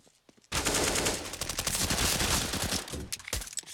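Sustained SMG fire from the video game CS:GO on the Inferno map near the apartments, a loud rapid automatic burst lasting about three seconds after a brief quiet start, with shots crackling densely.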